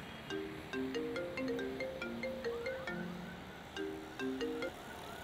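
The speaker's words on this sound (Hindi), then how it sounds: "आपके अब्बू का फोन आ रहा है।" A mobile phone ringtone plays a repeating melodic tune in a scene from the Pakistani drama Amanat, clear and moderately loud over faint background noise with no talk.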